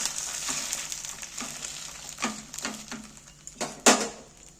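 A roti topped with egg sizzles and crackles in a frying pan as it is flipped, with a few soft scrapes and taps from the utensil among the steady frying.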